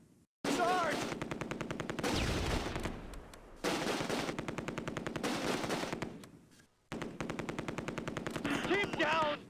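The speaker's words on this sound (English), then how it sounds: "Under heavy fire!" Heavy machine gun fire in the World War II video game Close Combat rattles in long, loud sustained bursts, separated by short pauses, with a brief shouted voice near the start.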